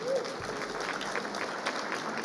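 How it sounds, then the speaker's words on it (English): An audience at a community breakfast event claps steadily in continuous, moderately distant applause that neither builds nor fades. "Give another round of applause for John Michel, please."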